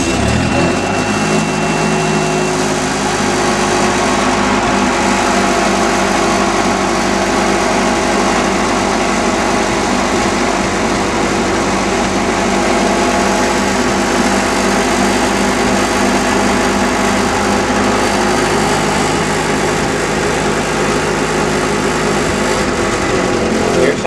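A Ford 9N tractor engine runs steadily and loudly close by, a continuous light-engine drone that holds without pause throughout.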